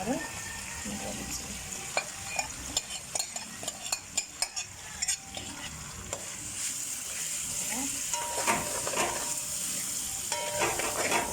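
Spaghetti with salmon frying and being stirred in a pan: a steady close sizzle with scraping stirs and light utensil clicks against the pan throughout.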